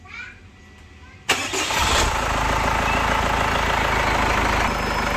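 Chevrolet Captiva facelift diesel turbo, with a rough-running, knocking engine, cranks and fires after a quiet moment, then settles into a loud, steady idle nearby.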